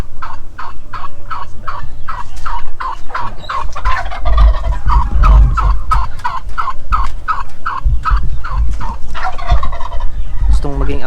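A turkey gobbles repeatedly in loud, rapid rattling bursts, with other fowl calling close by and a low rumble underneath, no talk.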